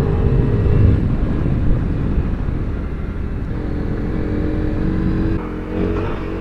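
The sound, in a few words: dual sport motorcycle riding on gravel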